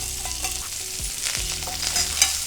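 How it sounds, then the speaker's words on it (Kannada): Mint leaves fry in a pan for a chicken gravy, giving a continuous close sizzle with light crackle and stirring scrapes over a low steady hum, no one speaking. "ಈಗ ನಾನು ಇದಕ್ಕೆ ಪುದೀನ ಹಾಕ್ತಾ ಇದ್ದೀನಿ ಫ್ರೈ ಮಾಡ್ಕೊಳ್ಳಿಕ್ಕೆ"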